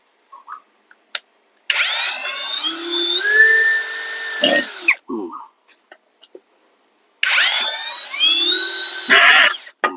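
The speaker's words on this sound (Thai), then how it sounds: "อันนี้ผมจะขันเข้ากับไม้เนื้อแข็งนะครับ" A Yofidra cordless brushless drill-driver screwing into hardwood in two bursts, each a rising motor whine that strains and then stops, with short clicks and handling noises in the quiet between.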